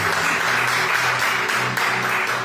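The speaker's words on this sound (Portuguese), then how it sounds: "que as palmas glorificam ao Senhor." A church congregation claps hands during worship, a dense continuous patter of many hands over a sustained musical tone, loud and close throughout.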